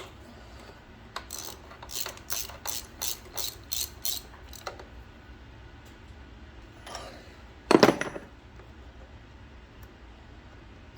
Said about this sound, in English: Let me put this plug back in.